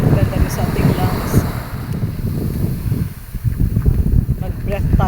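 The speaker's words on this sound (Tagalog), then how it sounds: "Enjoy natin ang sea breeze." Sea breeze sweeps across an island beach resort, a loud, uneven rush of wind against the microphone that rises and falls throughout, with a person talking over it at times.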